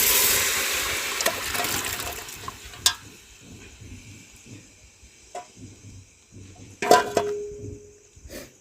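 Boiled bone-piece stock for Malvani tambda rassa is poured into fried masala in a pan, giving a liquid splash and sizzle with a few sharp clatters and a brief hiss near the end, close and moderately loud.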